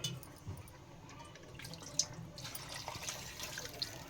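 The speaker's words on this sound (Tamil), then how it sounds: "தண்ணி கொஞ்சம் ஊற்றிக்கலாம்" Water pours and trickles into a pan of chicken gravy with faint splashing and dripping, steady and close, with no voices.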